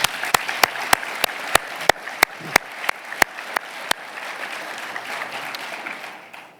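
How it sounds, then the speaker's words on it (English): Audience applause at a university state-of-the-university address, starting as a burst of sharp claps and settling into steady clapping from a crowd before thinning out toward the end, with no voices over it. "One more round of applause."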